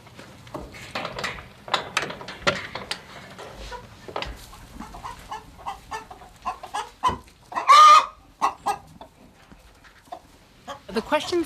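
Chickens cluck and squawk in irregular bursts, recorded up close to serve as creature sound effects, with a rooster-like call and a few voices talking in between.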